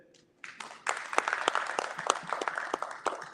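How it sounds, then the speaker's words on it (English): An audience at a vigil and art exhibition breaks into applause that starts sparse, then swells into steady, dense clapping with sharp individual claps, moderately distant. "I want you to give a strong round of applause for the true men."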